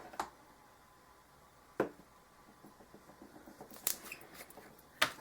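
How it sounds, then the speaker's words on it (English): Scissors cut down a card insert for a spring file folder card, giving a few sharp, separate snips spaced over several seconds against a quiet room. "And I'll just cut the insert down a little bit."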